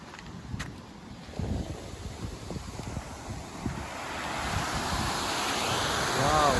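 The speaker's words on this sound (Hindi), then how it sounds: "पानी बहुत स्पीड है।" Fast-flowing water rushes steadily at Balidiha Dam in Baripada, Mayurbhanj, Odisha, a broad continuous roar with heavy wind buffeting the microphone, building slightly louder toward the end.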